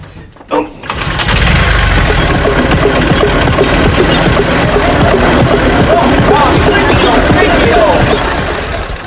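A motorbike engine sputters and runs roughly, loud and close, with an uneven knocking rhythm that continues steadily after a brief burst at the start.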